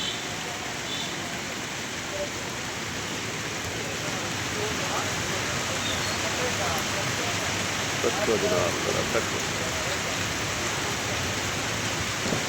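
Heavy monsoon rain pours steadily in Lahore, a dense continuous hiss of drops on surfaces with a faint distant rumble, while someone talks over it.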